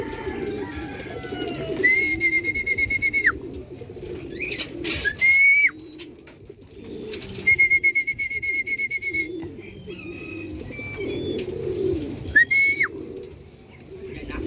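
Racing pigeons landing at their loft after a derby race coo and call, with sustained whistle-like tones rising and holding, and rustling and scuffling underneath.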